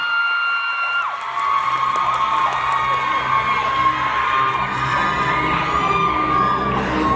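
Awards show audience of fans cheering and shrieking loudly after an acting award speech, a dense sustained roar of high voices and whoops with a little clapping underneath, continuing throughout.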